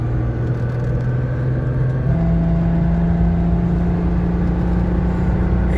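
Alfa Romeo Alfetta GTV 2.5 engine running steadily, then rising in pitch as it revs higher partway through, heard from inside the car as a close, continuous hum and whir with no talk.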